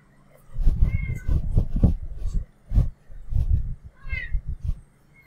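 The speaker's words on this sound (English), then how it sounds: "that was just my cat making a guest appearance" A pet cat meows repeatedly and close, with a string of short vocal calls in uneven bursts and a higher plaintive mew near the end, in a quiet room.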